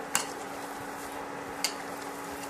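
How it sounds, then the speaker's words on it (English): A spoon stirs an oats and paneer kebab mixture in a bowl, two faint clicks against the side over a steady quiet background hum. "Now mix this mixture well"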